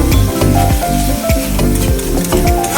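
Spice paste of ginger, garlic, onion, green chilli, cumin, coriander powder and tomato stirred and fried on low flame for a Bombay duck curry, with steady loud sizzling and repeated scraping strokes of a spoon against the pan.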